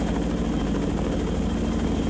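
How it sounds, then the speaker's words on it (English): A CH-46 helicopter in the naval game Sea Power drones with a dense, continuous rotor and engine roar, steady and close throughout with a faint rhythmic beating and no gaps. "Old ass looking Chinooks, yeah, they're the original early variant of the Chinook."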